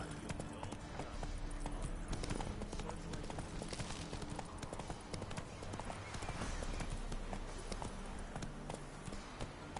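Rapid rhythmic clip-clop of horse hooves from Roach, the horse in The Witcher 3 video game, galloping steadily over a continuous game soundscape with background music, loud and near throughout.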